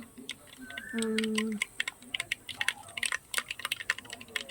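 Mustard seeds hit hot oil and splutter into a dense run of sharp, irregular crackles and pops, close and growing busier. A brief voice-like tone comes just before.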